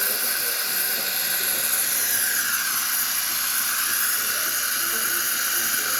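A loud steam wand on a Philips 2300 coffee machine hisses and screeches continuously as milk froths, the tone dipping briefly partway through, close up with no talking.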